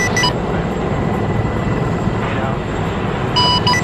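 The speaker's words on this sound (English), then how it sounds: "Be advised, you have two F-18s in the air" F-18 jet aircraft in a military shooter video game, its engines making a steady, loud, broadband roar that fills the whole stretch without letting up. Short electronic tones break in at the start and end, with faint voices mixed underneath.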